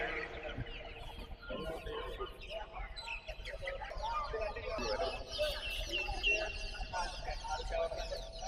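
Chickens cluck and chirp among a crowded, busy village market where many people talk at once, the birds' calls poking through the steady hubbub at moderate distance.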